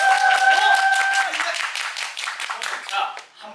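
A brief burst of hand clapping from a small theatre audience at a curtain call, fading out after a few seconds, with a voice and a sustained tone at the start.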